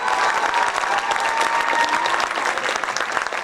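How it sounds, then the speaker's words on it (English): Audience at a high school academic awards evening giving a loud, sustained round of applause for Mrs. Simpson, dense clapping filling the room without a break. "one big round of applause for Mrs. Simpson doing a great job tonight"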